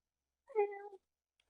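A person imitates a cat's meow with a single drawn-out, close and clear vocal meow lasting about half a second, then silence.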